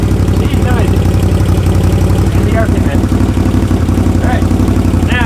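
A Can-Am Outlander 850 XMR ATV fitted with an MBRP performance exhaust, its engine droning loud and close in a steady rumble throughout, with faint higher whines rising and falling over the top.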